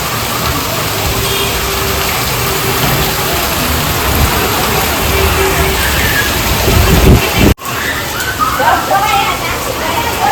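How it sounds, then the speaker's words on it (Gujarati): Heavy rain pours down on a street in Rajkot, a dense continuous hiss filling the scene at steady loudness, with a brief sharp drop near the end before the downpour resumes. "ધોધમાર વરસાદની શરૂઆત થઈ ગઈ છે"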